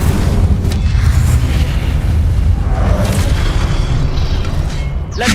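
An Incendio fire spell cast in the video game Hogwarts Legacy, heard as a loud, sustained roaring whoosh of flame that fills the whole stretch and ends in a brief bright burst.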